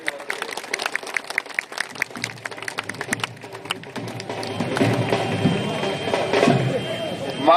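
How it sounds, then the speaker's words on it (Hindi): Scattered claps from a crowd at a park inauguration event in Bhogaon, sparse and sharp at first, then thickening into a denser, louder wash of applause and crowd noise. "जरा एक बार तालियां बजाकर उनका स्वागत करूं।"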